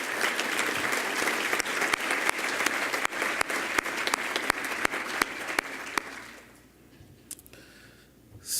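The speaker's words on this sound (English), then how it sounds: "Please give them all a round of applause." A lunch audience at a United Way event applauds its sponsors with sustained dense clapping and a few sharper individual claps. The applause fades out after about six seconds into quiet room noise.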